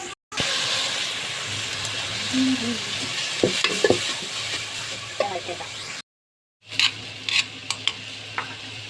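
Onions sautéing in a pan sizzle steadily while a spoon stirs and scrapes in irregular clinks. The sound drops out briefly before the stirring resumes, with faint voices in the background.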